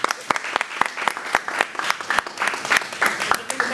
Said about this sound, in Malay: Tepukan keburuk untuk Rona Sina